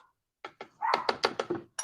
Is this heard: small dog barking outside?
yes